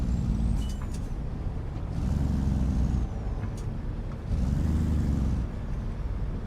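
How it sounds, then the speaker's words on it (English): Heavy truck brakes in American Truck Simulator, with repeated low rumbling brake surges and air-brake hisses over a steady engine drone, loud and close with no talking. "I am screaming on these brakes."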